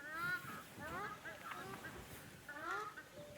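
Several nasal, quacking duck calls come in short bursts against a steady outdoor rumble in Ranthambhore, India, with some voices faintly in the background.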